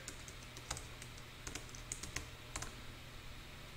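Rapid clicking of a computer keyboard with a broken J key and space bar, irregular bursts of keystrokes close by with no talk.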